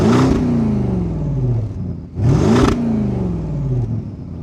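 A Porsche Cayenne Turbo (957) engine blips twice from close by, each rev rising sharply and then dropping back to a deep, throaty idle growl with the exhaust rumbling in between.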